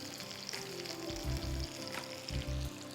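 Spices, salt, garam masala and gram flour fry in a pan with a soft, continuous sizzle, broken by a couple of low scraping stirs, close and fairly quiet with no talking.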